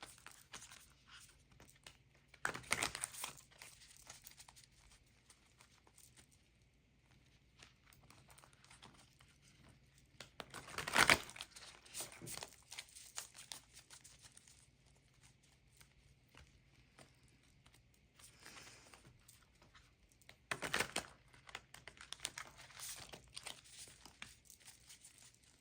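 A difficult, stiff tarot-style deck of cards being shuffled, quiet crinkly riffles and soft sliding, with three louder crisp bursts of card riffling spread across a mostly faint, close stretch.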